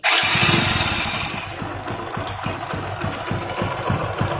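A motorcycle engine is started and settles into a loud, rhythmic idle with steady pulsing firing beats. The bike is being checked for a gear fault with the side stand down, and there is no talk over the engine.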